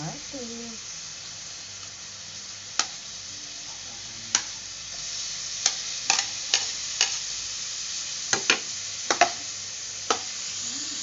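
Tomatoes drop into a frying pan of shrimp paste and pork, followed by a low sizzle and a run of sharp spatula clacks against the pan at irregular intervals.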